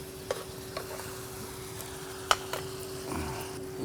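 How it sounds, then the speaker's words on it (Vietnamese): Ingredients for a Vietnamese snail hotpot frying in a pot, a soft steady sizzle with a few scattered clinks and scrapes of stirring, close and without talk. "Đây phi vừa lấy màu mà vừa để lấy thơm"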